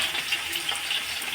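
Onions and green chilies fry in hot oil in a pan for chicken biryani. They make a steady, close hiss of sizzling with no pauses.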